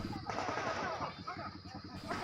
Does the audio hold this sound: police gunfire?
yes